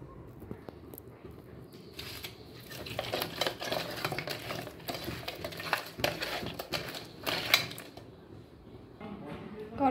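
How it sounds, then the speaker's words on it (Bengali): Six cut koi fish pieces being rubbed by hand with salt and turmeric, giving a wet, sticky squelching and patting that runs close and steady for about ten seconds, growing busier in the middle. "এবারে নুন হলুদ দিয়ে মেখে নিই"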